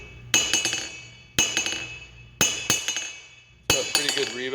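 Four sharp ringing hammer strikes on a large striking anvil made from a forklift fork, each blow followed by quick bouncing rebound taps and a bright metallic ring that decays before the next hit.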